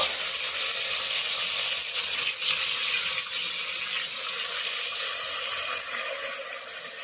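Onion paste hits hot oil in a wok spiced with cinnamon, cardamom and cloves, giving a loud, steady hissing sizzle throughout.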